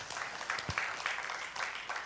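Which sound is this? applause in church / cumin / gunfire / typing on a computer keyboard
applause in church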